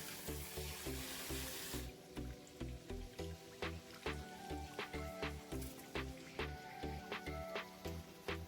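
Rice is washed in water at a kitchen sink, with rhythmic swishing and sloshing strokes close by, repeated at a steady pace, over faint background sizzling.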